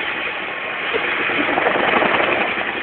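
Twin-engine helicopter powered by two Lycoming engines totalling about 7,000 shaft horsepower, putting on full power to climb; a loud, steady broadband turbine roar and rotor rumble swells slightly throughout, with no talk.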